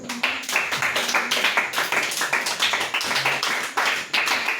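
A church congregation claps in quick, steady rhythm in acclamation, dense rapid hand claps filling the room, with some voices mixed in beneath.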